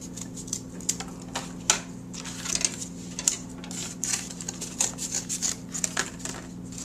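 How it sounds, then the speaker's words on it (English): Scissors or a blade cutting through thick cardboard for a mask piece, heard as quick crisp snips and scratchy crunches in irregular bursts, close and fairly clear over a low steady hum. "I'm going to cut this one out and trace it onto two other pieces"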